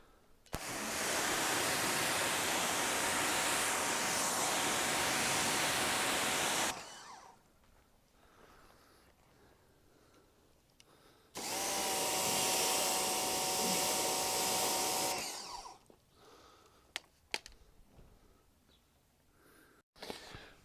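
Water sprays onto the freshly finished paintwork of a VW Polo Coupe S in two loud, steady hissing bursts, each several seconds long, separated by a quieter gap with a few light clicks and no talking.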